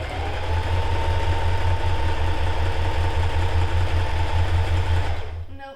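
A sewing machine sews a halter top in one continuous run of fast, even stitching hum that swells in and trails off as it stops, close up.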